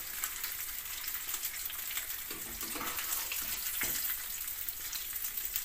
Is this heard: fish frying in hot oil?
yes